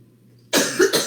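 A single loud, close cough bursts out after a moment of quiet breathing during a yoga breathing exercise, with a brief second rasping pulse at the end.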